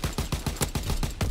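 BAR rifle firing in the video game Call of Duty: WW2, a rapid automatic burst of about eight evenly spaced heavy shots, loud and close, with no talk.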